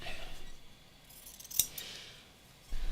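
Scissors cut paper for a craft project, a quiet rustle followed by one sharp snip midway and a brief crinkle at the end, faint and close with no talk.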